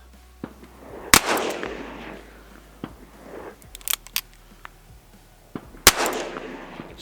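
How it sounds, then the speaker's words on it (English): Smith & Wesson 686 Competition revolver fired single action, sharp loud shots spaced a few seconds apart, each with a short echoing tail, plus quiet handling clicks between them. "Now, I am shooting this one left-handed, so we'll see. We'll go single action on both."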